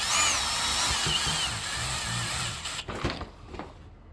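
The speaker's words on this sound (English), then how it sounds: "I got my drill on extra low." A power drill set to extra low speed drives screws during a tank swap on a chainsaw, a steady close whir and grind that fades near the end into a few light clicks and taps, with no voices.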